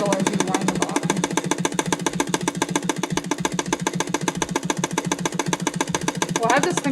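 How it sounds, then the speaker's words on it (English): Titan 650BL sewing machine winding a bobbin slowly at about 500 stitches a minute, a steady rapid mechanical chatter with a motor hum, continuous and close, with a person talking over it. "It takes a long time to wind a bobbin this way."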